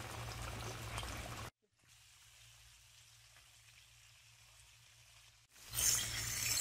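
Crispy chicken broast fries in hot oil on a low flame with a soft, steady bubbling hiss that cuts off briefly, continues faintly, then returns loud and crackling.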